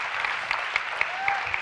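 An audience at a talk applauds a speaker, Laurence Fischer, with a dense, even wash of clapping at moderate distance and a few sharper claps standing out over the steady roar.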